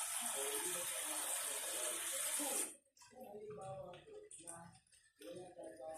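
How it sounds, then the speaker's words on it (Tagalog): Water gushes from a tap in a steady stream for menudo broth, then cuts off abruptly, followed by someone talking close by. "Kuha lang po tayo ng tubig."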